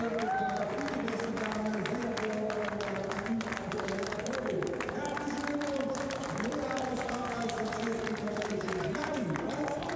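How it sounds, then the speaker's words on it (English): Steady, dense crowd cheering and applause at a Nürburgring trophy ceremony for the winning driver of a SEAT Leon Eurocup race, sustained throughout with voices mixed in. "by far the biggest cheer to a driver who's loving his day at the Nürburgring"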